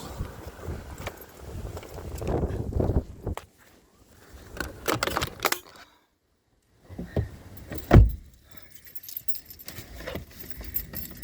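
Car keys jangle and clink in several bursts while a car is locked outdoors on a windy day in New Zealand, close and fairly loud, with quiet gaps in between.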